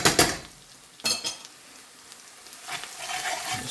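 Salt being stirred into softened, browned onions frying in a pan for a monkfish curry: close sizzling with a few sharp scrapes and clinks of the spoon against the pan, no talking.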